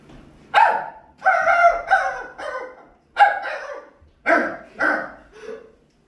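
A student's voice imitates a dog barking in a Korean middle-school classroom, giving a run of about seven loud, close, voiced bark-like yelps in irregular bursts, with no other talk.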